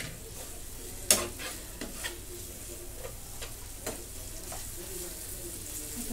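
Paneer bhurji with salt being stirred in a pan: a soft ongoing sizzle broken by a sharp clink of utensil on pan and a few lighter scrapes, near and quiet.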